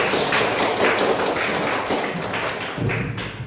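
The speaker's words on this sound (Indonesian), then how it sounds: "Tepuk tangan sekali lagi." A class of student teachers clapping hands together in a classroom, a dense, loud burst of many hands with rhythmic pulses that fades slightly toward the end.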